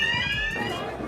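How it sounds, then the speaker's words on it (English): Shop burglar alarms ring out in a city street after riot break-ins, a steady high electronic tone with layered harmonics sounding continuously throughout, with low rumbling street noise underneath. "there was just the sound of the alarms in shops that had been broken into"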